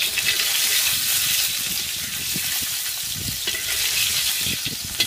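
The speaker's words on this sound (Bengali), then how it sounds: "এই দেখো ডিম ভাজাগুলো তো হয়ে এসেছে" Eggs frying in a pan over an outdoor cooking fire at a pondside picnic, a steady loud sizzle and crackle running throughout, close and unbroken, with faint clinks beneath.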